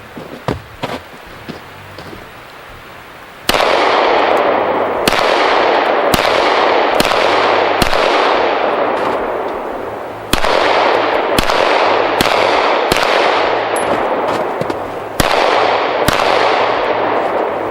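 A REX zero 1S pistol fires about a dozen loud, sharp shots at a target 10 yards away on a snowy range, each with a long ringing decay. The shots come at a steady pace after a few quieter thumps.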